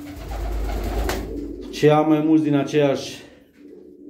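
Pigeons coo in a breeding loft, a deep throaty rolling call close by that follows a stretch of someone talking.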